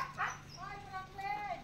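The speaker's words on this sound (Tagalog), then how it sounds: "My boy, my golden dog boy." A golden-coated dog close by makes short whiny, yipping barks with rising and falling pitch, while people talk quietly over it outdoors in front of a house.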